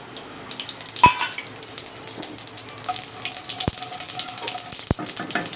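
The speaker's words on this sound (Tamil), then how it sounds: "முதல்ல கடுகு சீரகம் போட்டு தாளிச்சிக்கலாம்" Mustard seeds and cumin splutter in hot oil for a South Indian tempering, giving a steady, close crackling sizzle broken by a few sharp pops.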